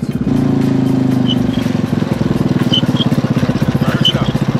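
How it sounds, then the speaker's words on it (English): A loud gyro bike engine starts and settles into a fast, rhythmic chugging idle, close by, with a few faint high tones over it. "Once the rotor starts spinning, the prop kicks in, thrusting the motorcycle forward."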